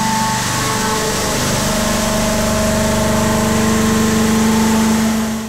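A Tree Mill VS1614 CNC milling machine with a 60 horsepower spindle is machining a large blisk. It gives a loud, steady mechanical drone with a sustained tonal hum that runs unbroken throughout.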